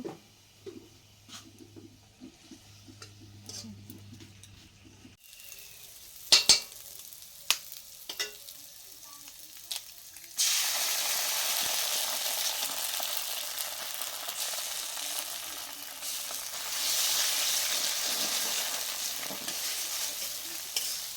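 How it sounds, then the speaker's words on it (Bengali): Eggs frying in a pan for breakfast, with a few scraping clicks early on, then a steady loud sizzle taking over midway and continuing to the end without talk. "ডিম ভাজা হচ্ছে"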